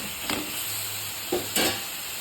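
Carrot biryani with masala being stirred in a frying pan, a continuous sizzle with two or three scraping stirs close by.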